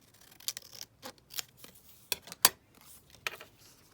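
Scissors snipping through a 12 x 12 inch paper master board, heard as several separate crisp cuts and clicks spread across a few seconds, close and fairly quiet, with no talking.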